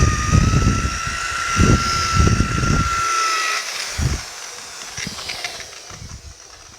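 A buffing wheel polishes tricky spots on a 1950 Chevy 5-window truck cab, giving a steady whirring hiss with bursts of rubbing and scuffing as the wheel edge catches the metal.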